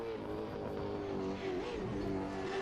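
Red Bull Holden Commodore V8 race car in the Assetto Corsa racing game, engine droning steadily with a harmonic-rich tone that rises and falls slightly, continuous and moderately loud with no talking.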